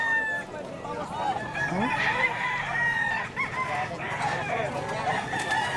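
An 11-month-old stag gamecock crows at a poultry sale, with clucking fowl nearby and people talking in the background.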